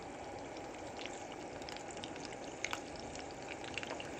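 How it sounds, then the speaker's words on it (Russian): Soft, steady crackling and sizzling like bacon in a pan, with scattered small pops, fairly quiet and continuous. "А на самом деле это был звук жареного бекона."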